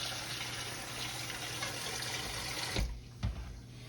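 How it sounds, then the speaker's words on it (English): Water poured into an Instant Pot holding country style pork ribs, a steady close rushing stream that stops abruptly, followed by a couple of soft knocks. "Okay, we're gonna put a little water in here, y'all."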